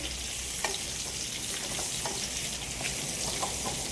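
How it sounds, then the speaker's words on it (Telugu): Pumpkin frying in a pan, a continuous close sizzle of oil with light intermittent stirring clicks throughout. "కచ్చా పచ్చగా కొద్దిగా వాసన పోవడానికి ఫ్రై చేస్తున్నామండి"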